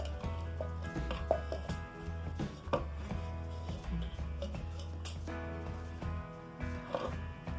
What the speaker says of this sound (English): chop well and keep it separate